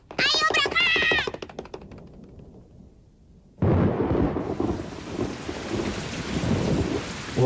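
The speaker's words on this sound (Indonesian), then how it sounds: "gawat turun hujan" Heavy rain with a rumble of thunder in an anime scene, bursting in loudly after a short lull, preceded by a cat-like meow and brief voices.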